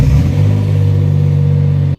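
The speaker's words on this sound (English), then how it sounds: "this car does have a cat back exhaust, so it does sound good" A Mitsubishi 3000GT VR-4 with a cat-back exhaust revs its engine, a loud, steady, deep exhaust drone held for about two seconds before it cuts off abruptly.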